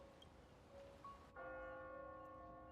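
A church-like bell in the video game Honkai: Star Rail strikes partway through and rings on with a sustained, humming resonance over a faint tonal background, alone and without talk.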